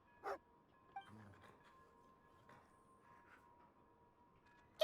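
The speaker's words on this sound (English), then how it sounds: "This must be one of Alosha's dogs!" A dog in the Genshin Impact video game gives a short bark and a soft whimper, followed by small yips and whines over a quiet background hum, then one last sharp bark at the end.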